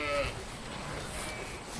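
A sheep gives one short, faint bleat at the very start, heard outdoors during a walk. Quiet, steady background noise follows.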